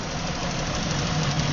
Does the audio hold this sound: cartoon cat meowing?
no